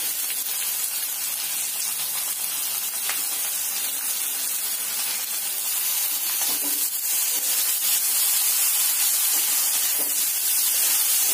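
Tomatoes stirred and mashed in a hot pan for desi-style pasta with Indian spices: a steady, close, even sizzle and hiss that runs throughout, with faint scraping from stirring and no voices.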